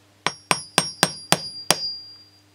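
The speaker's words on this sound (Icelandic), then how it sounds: "lítinn hamar." Six sharp metallic taps from a small hammer striking parts of a disassembled OS Max 25-FP model engine, evenly spaced, close and crisp, with no talk.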